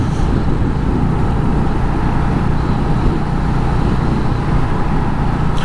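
A car speeds along the shoulder of a highway access road, heard as a loud, continuous broadband road roar lasting the whole stretch, steady with no clear pass-by swell, and no talking over it.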